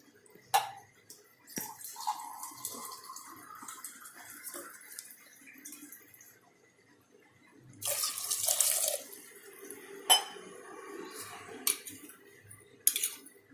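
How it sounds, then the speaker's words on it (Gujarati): Water runs and splashes into a metal pressure cooker holding drumstick pods in a few short bursts, with quieter clinks and drips in between; no voices. "2 ગ્લાસ પાણી નાખશું।"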